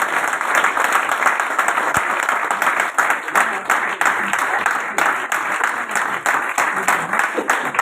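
A large audience claps loudly and steadily at an event for several seconds, a dense sustained applause close by with some crowd voices mixed underneath.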